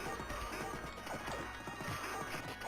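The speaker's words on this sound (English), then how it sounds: "that's a big guy on a red horse" Horse hooves clattering in a rapid gallop, with smashing hits and a short whinny, in a retro arcade beat-'em-up game, steady and busy throughout.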